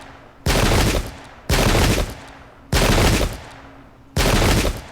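Four heavy musket volleys crash out in the strategy video game Pike and Shot: Campaigns, each a loud, dense roar lasting about a second, spaced evenly and followed by short quieter gaps.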